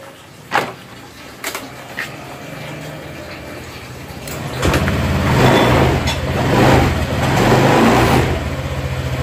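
A Honda Vario 150 scooter, just repaired after failing to start, sputters into life after a few clicks and then runs with a rising, revving engine hum nearby, without speech.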